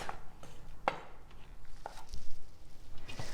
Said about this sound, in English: And don't forget to chop those green onions.